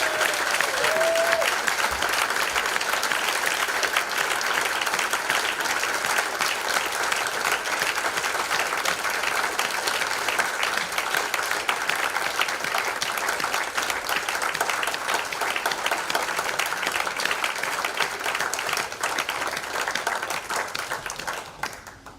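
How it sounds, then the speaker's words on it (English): Audience at an awards ceremony applauding a young sports personality winner: loud, sustained, dense clapping from a large crowd, fading out at the very end. "give her a massive round of applause"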